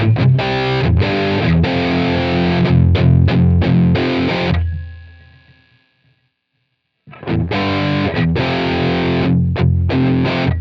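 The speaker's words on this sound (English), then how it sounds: "If I go ahead and drive the level of the overdrive pedal, you can hear even driving up the level of the pedal, you're not getting much more volume." An electric guitar runs through a Friedman IR-D preamp pedal's overdrive, playing loud, compressed chugging riffs. A chord rings out and fades to near silence, then the driven riffing crashes back in.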